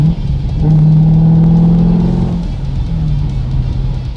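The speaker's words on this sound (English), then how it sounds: "I got a little magic switch I can flip here that opens it up, and it makes it pretty darn glorious." A C6 Corvette with its exhaust valves opened revs hard on a downshift, heard from inside the car with a window cracked: a loud, steady, deep engine roar that rises, holds, and then eases back.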